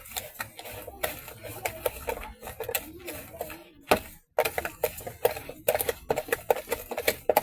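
Cake batter and sugar stirred with a wooden stick outdoors in a village kitchen, giving irregular quick knocks and scrapes against the bowl, close and fairly loud, with a brief pause midway.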